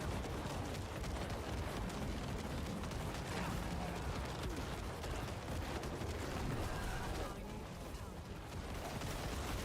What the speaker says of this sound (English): I'm just literally holding down my corpse explosion button.